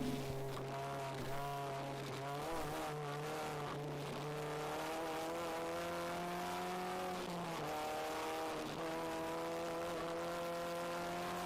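Race car engine at an endurance race at VIR, a sustained high-revving whine that holds steady, then dips and stutters briefly around a missed gear shift before climbing again, heard from a distance with no talk.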